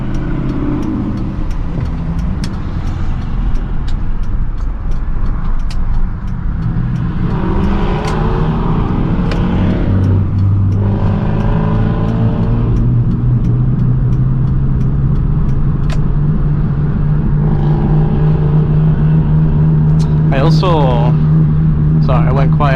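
A car cruising along on a drive, its engine a steady close hum with gear changes and rising revs, heard from inside the cabin under a man's continuous chatter.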